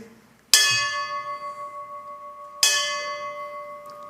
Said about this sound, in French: Je t'inviterai à sonner 3 fois la cloche.